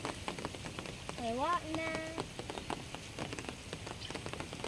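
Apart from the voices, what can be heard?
rain falling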